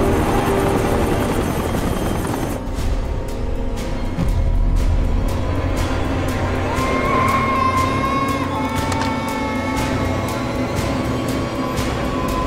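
A rescue helicopter prepares to take off in a thriller movie scene, its loud rotor thumping and turbine roar dominating throughout, joined by a rising whine.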